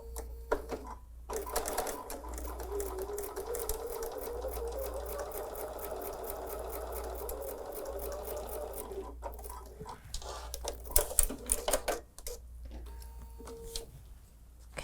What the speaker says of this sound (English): let's go to the sewing machine and sew directly on that line